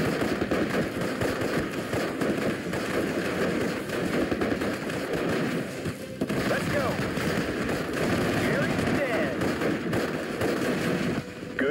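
Continuous dense gunfire and explosions in the WWII strategy game Steel Division: Normandy, a loud, busy battle din with overlapping bursts and booms that barely lets up.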